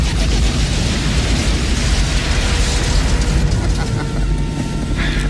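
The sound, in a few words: missile explosion in action movie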